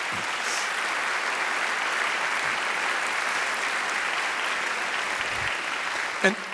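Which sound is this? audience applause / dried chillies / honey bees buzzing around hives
audience applause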